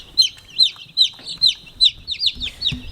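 High, rapid peeping calls from young chicks in a brooder, repeated in a steady rhythm of short bright chirps, close by with faint low rustling beneath.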